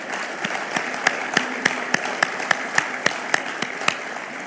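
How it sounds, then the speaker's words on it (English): Audience at a 60th anniversary thanksgiving service applauding for the President of the African Development Bank, a steady wash of clapping with regular sharper claps standing out, fairly loud and without speech. "Let us clap for this man."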